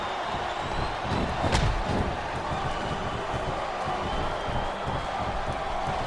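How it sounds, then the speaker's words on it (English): Capacity arena crowd in the wrestling video game WWE SmackDown vs. RAW 2008, a steady roar of noise with scattered cheering and a sharp slam near the start, heard under faint commentary. "This capacity crowd is making their opinions known tonight"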